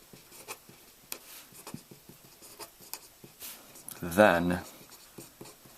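Pen or marker writing on a surface while working through a logic example about sugar highs, heard as soft scratchy strokes scattered through the clip beneath ongoing talk.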